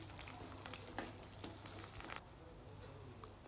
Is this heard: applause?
no